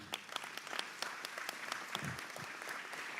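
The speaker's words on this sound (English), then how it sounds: "you're already clapping" Audience members clap at a community public safety meeting, a quiet but continuous patter of many hands with distinct individual claps standing out throughout.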